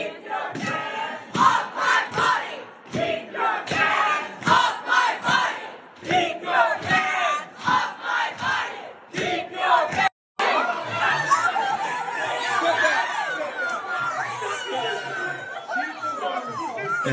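A large crowd gathered at a daytime protest event with state patrol officers present, producing dense overlapping chatter, shouts and cheering, loud and close, with a brief cut midway before the crowd noise resumes.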